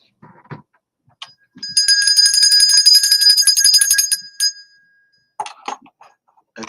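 A bright metallic bell rings rapidly for a few seconds, framed by coughs and throat-clearing before and after.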